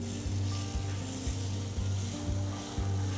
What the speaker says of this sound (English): We're gonna drop our steaks on just so we hear that nice sizzle.